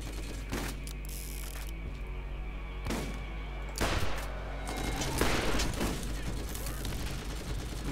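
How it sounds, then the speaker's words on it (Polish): Shotgun blasts in the video game Borderlands, several loud broadband bursts at irregular intervals over a continuous dense game soundscape, with heavier volleys toward the end. "strzela z tego shotguna"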